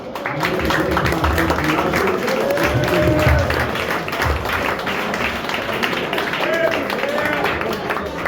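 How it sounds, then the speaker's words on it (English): Applause and clapping from a crowd at a charity event in a boxing gym fill the space steadily, with a dense, continuous patter under faint voices throughout. "So I gotta give you applause"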